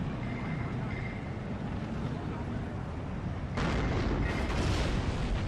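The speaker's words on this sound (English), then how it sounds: "So many shots coming in." Steel Division 2 battle with dense, continuous gunfire and incoming shots, a rumbling wall of artillery-like blasts that grows louder and brighter partway through, with a voice speaking over it.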